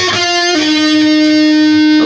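Distorted electric guitar plays a 1980s lick, with a bent note that rises, then a long sustained singing tone, loud and close, alone.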